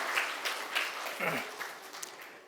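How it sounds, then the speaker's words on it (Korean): A church congregation claps in applause during a Sunday worship service, a brief spell of scattered, moderately loud clapping with a voice audible under it. "하나님께 영광의 박수를 돌리겠습니다"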